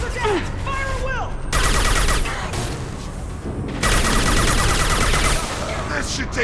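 Sustained gunfire in the shooter game Mass Effect 2 fills the mix with dense, continuous volleys that swell and ease, with bursts of voices and game effects layered over the shooting.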